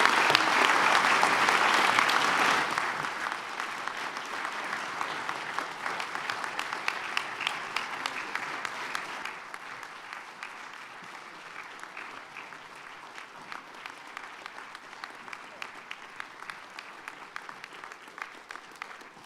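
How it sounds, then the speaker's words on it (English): Loud applause for Danny Trejo at the 2020 Bravo Awards ceremony, beginning as a thick roar of clapping, then gradually thinning to scattered individual claps that continue softly toward the end. "One more round of applause for Danny Trejo"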